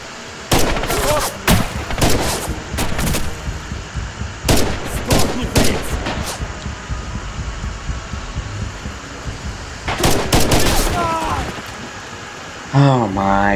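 Bursts of machine gun fire in the World War II shooter game Red Orchestra 2: Heroes of Stalingrad, several loud rapid volleys with pauses between, mixed with other game noise and someone talking over it.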